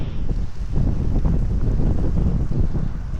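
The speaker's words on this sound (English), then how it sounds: "But it's really windy." Strong wind roars and buffets the microphone in a town in Utah, a steady, loud, low rumbling gust with no voices.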